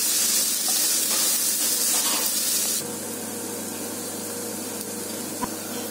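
Mushroom pepper fry stirred in a hot pan, a loud steady sizzle and hiss that drops to a softer crackle partway through, with occasional light scrapes and no talking.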